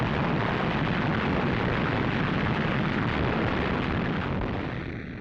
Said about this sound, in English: the British opened up an artillery bombardment on Rommel's positions